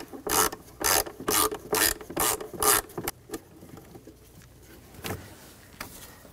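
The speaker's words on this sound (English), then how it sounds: "Using a T20 socket, take the screw out." A ratchet fitted with a T20 socket backs a screw out on a 2013-2019 Ford Escape 2.0L, giving a run of rapid clicking bursts up close, followed by quieter scattered handling noises.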